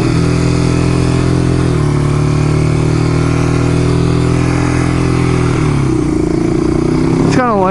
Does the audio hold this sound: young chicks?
no